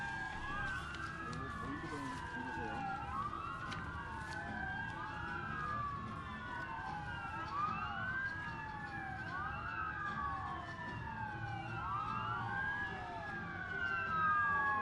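Airport fire engines respond to an aircraft accident emergency drill, several wailing sirens overlapping and sweeping up and down at a moderate distance over steady background rumble, with no voices.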